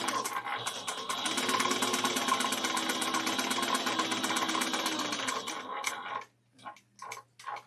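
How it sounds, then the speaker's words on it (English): Sewing machine running steadily as it stitches a 3/8-inch seam on a quilted shoulder bag pocket piece, a continuous close mechanical whir that stops near the end, followed by a few brief clicks. "we're about to sew it 3/8 of an inch together, backstitch in the beginning of the end"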